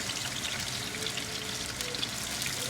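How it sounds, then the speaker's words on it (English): Oxtail pieces frying in hot oil, a steady close crackling sizzle with fine popping spatters running continuously and evenly throughout. "And I'm going to allow these to fry."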